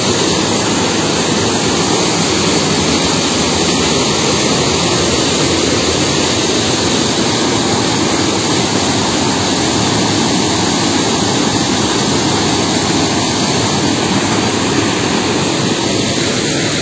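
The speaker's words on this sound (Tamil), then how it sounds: "இந்த அருவி அப்படியே ஃபாலோ பண்ணிட்டு போனா நம்ம நிறைய அருவிகளை கண்டுபிடிக்கலாம் போல" A waterfall pours in a broad, constant roar that fills the whole stretch evenly, loud and close, with no voices heard.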